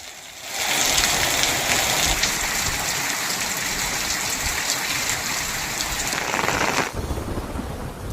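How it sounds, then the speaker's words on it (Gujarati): Heavy monsoon downpour in Waghodia, Vadodara, Gujarat, a dense steady hiss of rain pouring on surfaces that starts abruptly and holds loud and unbroken before easing near the end. "ક્યાંક ઝરમર તો ક્યાંક ધોધમાર વરસાદ શરૂ થયો"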